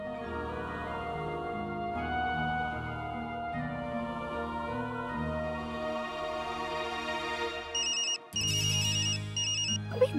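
A melodic phone ringtone plays steadily for several seconds at moderate volume, a looping tune that briefly cuts out and then turns into higher repeated electronic chirps.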